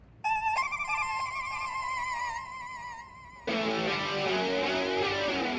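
An electronic phone ringtone trills in a repeated melodic pattern, then shifts to a denser, brighter tone that keeps ringing steadily to the end.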